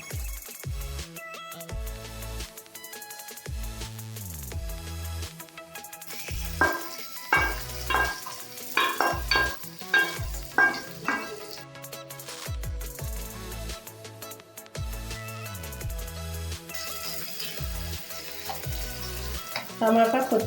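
A hot tempering sizzles and crackles as it is stirred into a freshly ground coriander, mint and tomato chutney, with a steady fry punctuated by scraping spoon clatters and a faint voice now and then.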